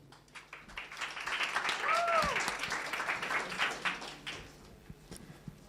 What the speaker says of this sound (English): Give up a big hand applause for Pleasier, please.